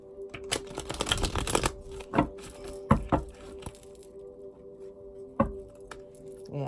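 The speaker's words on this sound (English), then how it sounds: "Alright, one more shuffle." A deck of tarot cards is shuffled close by, giving bursts of riffling and flapping card sounds with a few sharp taps and pauses between them, with no talking.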